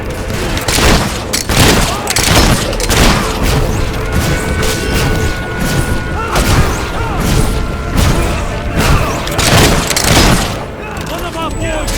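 Gunfire and booming blasts from a battle scene in the video game Fable 3, a dense continuous fusillade of shots and impacts under raised voices throughout.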